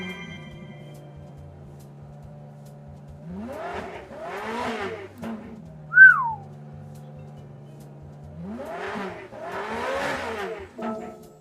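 A Subaru BRZ GT300 race car engine in Gran Turismo 7 idles with a low hum, then revs sharply twice in rising bursts, a brief high squeal between them.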